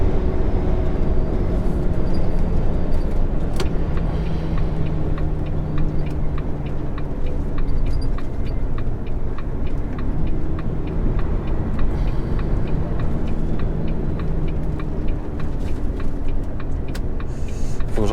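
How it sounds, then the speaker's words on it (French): Constant loud rumble of a 2012 Volvo truck cab on the move, with steady road and engine noise and a faint repetitive ticking throughout. "le camion fait un bruit pas possible"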